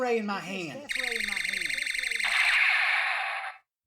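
An electronic alarm blares in a rapid pulsing buzz, loud and steady for a few seconds after a short stretch of talking, then cuts off abruptly.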